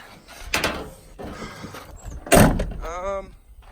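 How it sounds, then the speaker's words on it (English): An old black Jeep door, poorly welded, is swung shut and strikes the fender with one loud metallic clunk partway through, preceded by shuffling handling noises and followed by a short voice in the background. "get my door shut. The door hits the fender."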